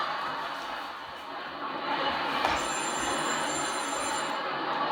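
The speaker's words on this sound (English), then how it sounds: "I think that's the phone." A telephone bell rings in a cafe, with faint room noise underneath at first, then a clear, sustained ringing tone that sounds steadily through the second half.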